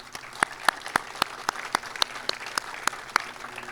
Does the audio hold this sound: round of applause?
yes